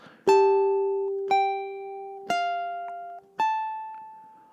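Four slow, clear ukulele notes of a gentle lullaby measure, each plucked tone ringing out and fading before the next, heard close and alone without talking.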